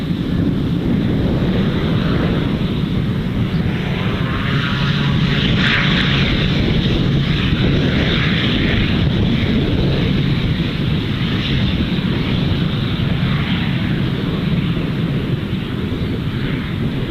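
An airplane takes off at Gold Coast Airport with a loud, continuous engine roar that holds steady throughout, mixed with gusty wind rumble on the microphone.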